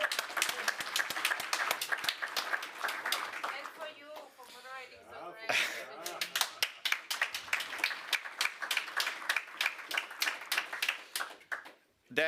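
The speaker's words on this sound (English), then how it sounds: "So really the largest round of applause for yourself," Conference audience applauding a moderator at the close of a ports conference session, a dense patter of claps running under a speaker's voice, briefly thinning midway then resuming before fading out.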